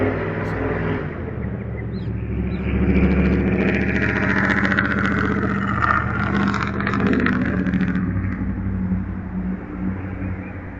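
A race truck's engine roars loudly as it drives past, a deep, steady, rumbling drone with a low harmonic growl that swells through the middle and holds for the whole stretch.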